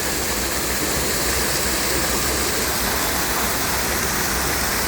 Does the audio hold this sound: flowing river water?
yes